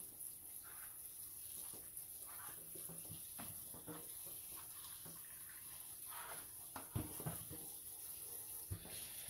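Cold tap water runs steadily over freshly drained pasta noodles in a kitchen sink, a continuous hiss of flow with a few sharper splashes and knocks near the end.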